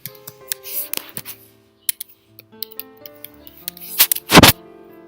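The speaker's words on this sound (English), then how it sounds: "So we type the password." Keys click in quick irregular bursts as a password is typed on a keyboard, close and clear, with scattered single taps between short runs and a heavier clatter near the end.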